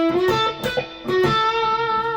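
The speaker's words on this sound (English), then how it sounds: "because I play it with using a little bit of distortion" A short distorted electric guitar lick on a Telecaster in A: a few picked notes with a bend, ringing out with gritty sustain, played alone and close.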